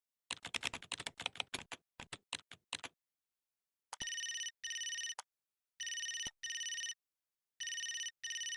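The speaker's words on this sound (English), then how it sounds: "Typing in the code we got from Orion earlier into the Otherworld login gives us this." Quick clicky keystrokes typing a code into a login screen in a browser video game, a rapid burst of taps, then four evenly spaced electronic tones ringing out cleanly, no voices.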